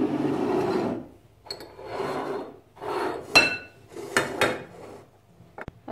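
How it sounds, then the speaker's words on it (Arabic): A frying pan handled in a home kitchen while preparing a Moroccan carrot salad, with a series of metallic scrapes, clinks and knocks in short separate bursts, fairly close and moderately quiet. "دابا غادي ناخذ المقيله ديالي"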